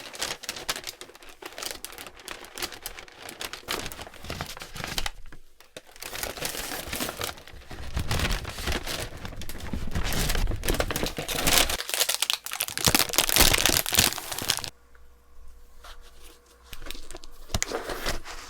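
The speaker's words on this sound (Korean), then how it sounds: "같이 언박싱 해볼까요?" Crinkly plastic and paper packaging from a Sinsa-dong bakery box being unwrapped to reveal croissants and cruffins, with steady close rustling and crackling that swells louder midway, then settles into quieter handling near the end.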